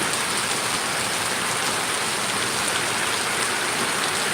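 Steady rain falls continuously, a dense even hiss of drops with no pauses and no voices.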